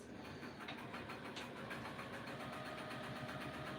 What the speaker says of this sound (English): I'm just gonna sew this